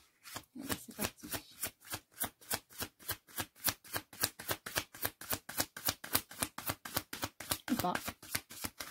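Oracle cards being shuffled by hand in a steady, rapid run of crisp riffling bursts, close and fairly loud throughout, with a brief spoken remark partway in.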